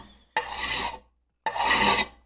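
Two steady rasping strokes of a paper guillotine blade being rubbed on a sharpening stone, each about half a second long and separated by a brief pause, close and fairly quiet.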